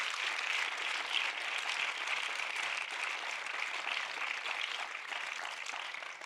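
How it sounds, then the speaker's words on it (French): An audience applauds steadily throughout, a dense wash of many hands clapping at moderate, even level after a documentary director is introduced at a human rights film festival panel. "Vous pouvez l'applaudir également."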